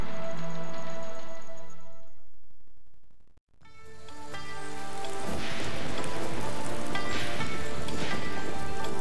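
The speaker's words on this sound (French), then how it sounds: "La pluie, ça fait de la boue" Rain falls in a French animated children's series, a dense, steady patter that fades out to near silence and then swells back in, fuller and louder than before.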